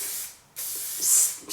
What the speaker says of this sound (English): So I'm just gonna spray a generous amount all through my hair.